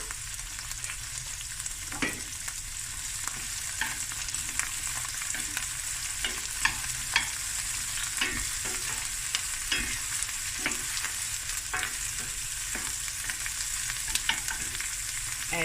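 Garlic frying in a pan over medium heat: a continuous soft sizzle with repeated scraping and clicking stir strokes at close range, irregular but frequent, with no talking.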